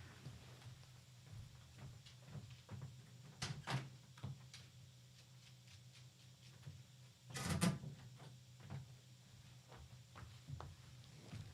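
A house door is opened to let a dog out. Soft clicks and shuffling footsteps lead to a louder handle-and-latch clatter near the end, all fairly quiet and indoors, with no talking.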